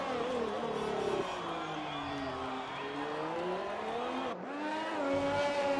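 A race car engine in the F1 2020 video game at Bahrain, a sustained, loud, high-revving whine whose pitch rises and falls through gear changes, with a brief drop around the fourth second before climbing again.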